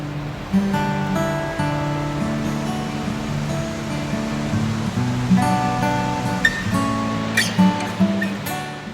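Multnomah Creek in Oregon rushes along beside a trail as a steady, loud broadband wash of flowing water, continuous and unbroken, with a soft tonal hum over it.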